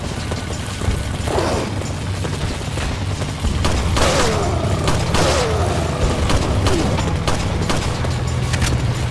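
Gunfire and heavy booms from the Resident Evil 4 tunnels level, a dense fusillade of loud shots and crashes that intensifies midway, with fire and explosions mixed in.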